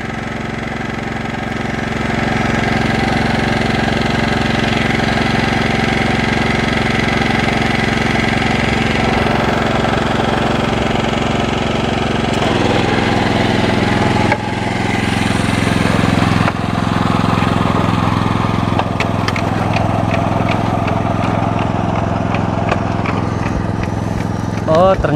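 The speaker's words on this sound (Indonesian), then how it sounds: "ini proses penghidupan mesinnya. Kita akan saksikan seperti apa sih kok bisa dia menanam sendiri." A rice transplanter machine's engine starts and runs, a loud, steady mid-pitched drone that holds for the whole stretch, with a person talking over it.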